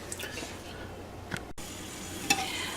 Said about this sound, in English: Okay, so I've got the celery and onions in here, and one other thing that I'm going to put into saute with these